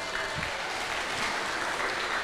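Audience applause fills a stand-up comedy open mic show in Maluku, a steady dense clapping wash that runs loud throughout, with faint voices underneath.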